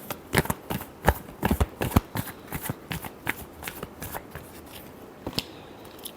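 Tarot cards are shuffled by hand in a run of quick, crisp riffling bursts, close and fairly soft, with brief pauses between flurries and no talking.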